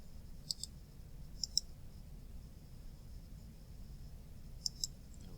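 Computer mouse clicks sound in quiet pairs, close and faint, a double click early, another pair soon after, and two more near the end.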